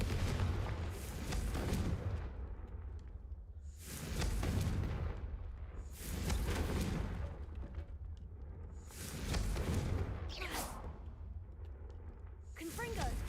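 Confringo fire spells in Hogwarts Legacy burst in a series of deep, rumbling booms, each swelling and fading every couple of seconds.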